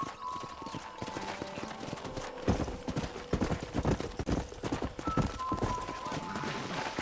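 Steady hoof clip-clops from a horse at a trot in Red Dead Redemption, a regular rhythmic clatter close by, with ambient game music and a faint tone running underneath.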